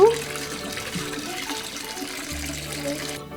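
Water runs steadily from a tap into a sink as hands are washed with soap, a continuous close splashing wash that stops abruptly at the end.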